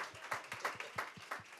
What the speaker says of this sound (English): Let's give a round of applause for Miami-Dade County Public Schools.